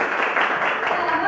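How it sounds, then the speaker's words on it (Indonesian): A school classroom breaks into brief applause, many students clapping at once in a dense, close burst lasting about a second. "berikan tepuk tangan"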